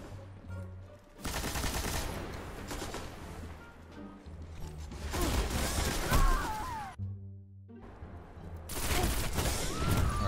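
Rapid bursts of pulse rifle fire in Destiny crack out loud and close in several long volleys, broken by short gaps, with game effects and faint background sounds between bursts.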